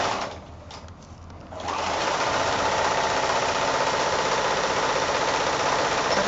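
A sewing machine stitching a quarter-inch seam on flanged cushion fabric starts up after a quiet moment and runs in a fast, steady mechanical whir close by, with no talking.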